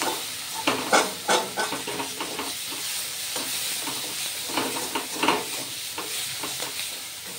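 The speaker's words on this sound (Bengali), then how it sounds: "পেঁয়াজ ভাজা প্রায় হয়ে এসেছে" Grated onions frying in a pan, sizzling steadily with intermittent scraping stirs from a utensil, close and moderately loud with no one speaking.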